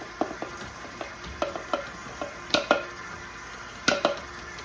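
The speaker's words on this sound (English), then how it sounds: "I'm gonna put it on low or stir and then just put all of this in" A mixer on its low stir setting works toffee pecan crunch cookie dough, a faint steady motor hum under a series of sharp, irregular knocks and clinks against the bowl.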